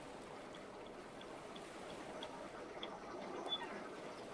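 Water gushing and trickling into a flooded ship compartment in the Stormworks game, a steady broadband wash with faint splashes and bubbling throughout, moderately quiet and continuous without speech.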